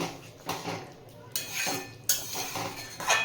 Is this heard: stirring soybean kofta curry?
yes